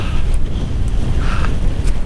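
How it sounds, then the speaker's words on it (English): Wind gusts across a mountain saddle on Slieve Meelmore, a loud, continuous buffeting rumble against the microphone with no break through the whole stretch. "the winds are starting to pick up as well as I'm getting closer to the saddle"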